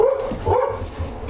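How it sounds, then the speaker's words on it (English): Several dogs bark excitedly at a squirrel that just crossed the fence, loud, close yips and barks coming one after another in a short burst. "All the dogs went crazy because a squirrel just ran over the fence."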